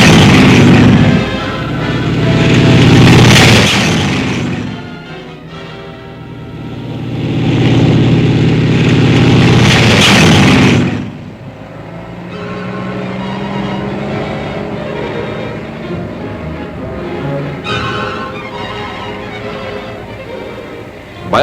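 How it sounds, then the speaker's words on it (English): Military tanks moving up along a flank in 1944 combat footage: loud, rumbling engine roar with heavy booming swells, then a lower steady grinding rumble with clanking, all without talk. "Tanks move up on the flank."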